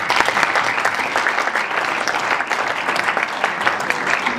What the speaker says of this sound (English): You can applaud if you'd like.